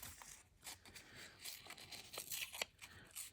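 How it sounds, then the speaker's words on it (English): Paper edge being ripped by hand to shape an envelope, a few quiet, close tearing and crinkling bursts in short irregular strokes. "let's just maybe rip this edge a bit"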